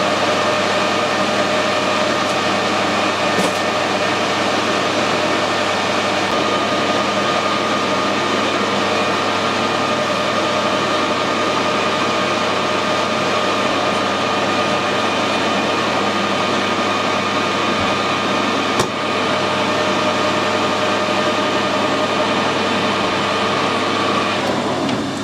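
A lathe makes a light finishing cut at a slowed feed, giving a steady, even machine hum with a faint whine that runs unbroken and alone at close range.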